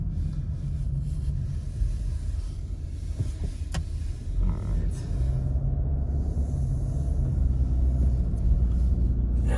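A car accelerates on a snowy, stormy road in Big Bear, California, giving a steady, close low rumble that swells slightly near the end.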